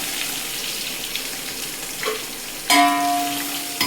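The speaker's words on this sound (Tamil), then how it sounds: "இப்ப நம்ம போட்ட வாசனை பொருள் எல்லாம் பொரிஞ்சுக்கிட்டு இருக்கு" Onions and whole spices frying in oil, a low steady sizzle with soft stirring scrapes, ending in a louder rush of hiss mixed with a faint ringing metallic tone toward the close.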